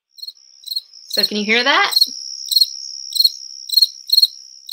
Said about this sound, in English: So these different crickets that are all very similar looking to each other have completely different songs.